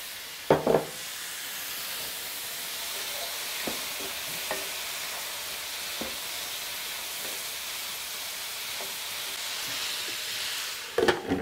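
Pumpkin and pork stir fry sizzles steadily in a hot pan, a continuous frying hiss broken by a few clinks and stirring knocks, with louder clatter at the start and end.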